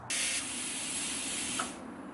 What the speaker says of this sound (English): We'll plasma cut it out, throw it in the vise, and grind it down to size.